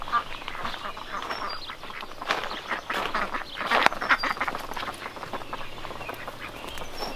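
Ducks quack repeatedly in a permaculture garden on a quiet morning, a steady busy chorus at moderate distance with other birdlike calls mixed in and no talking.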